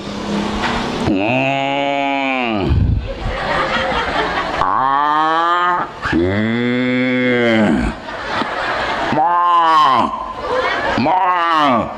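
A voice imitates a cow mooing, giving several long, drawn-out, loud low moos close up, one after another with brief gaps.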